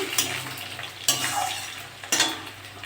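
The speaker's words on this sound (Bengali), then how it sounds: "কচুর মুখটা একটু ভাজা ভাজা হয়ে গেছে গাঁটি কচু" Taro corms (kochur mukhi) crackle and sizzle in an oiled pan, with three sharp spatula scrapes at roughly even intervals over the steady frying hiss.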